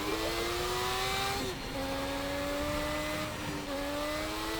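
Bumper car driving in Teardown, a steady droning engine whine that climbs in pitch, drops back twice and rises again as it speeds up, loud and up close with no voices.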